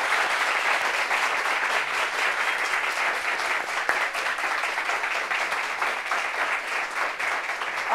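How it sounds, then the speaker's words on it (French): A studio audience applauds a woman guest introduced on a talk show: dense, steady clapping from a crowd that holds evenly for several seconds, with no voices over it. "Applaudissements pour elle."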